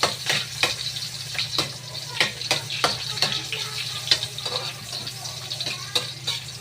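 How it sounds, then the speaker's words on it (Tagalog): Aromatics for ginataang labog sauté in hot oil, a close, steady sizzle punctuated by sharp scraping clacks of a spatula stirring in the pan at irregular intervals. "Ayan, dandan lang kasi mainit yung mantika"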